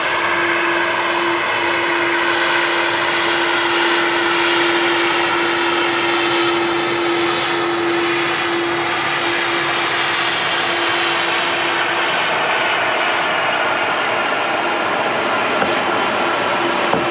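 KLM aircraft engines at Manchester Airport, a loud steady roar with a sustained tonal whine, continuous and close for the whole stretch, with no talk over it.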